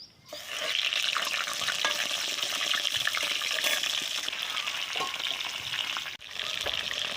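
Fish heads fry in oil in a wok, giving a loud continuous sizzle with crackling spits and a short dip near the end.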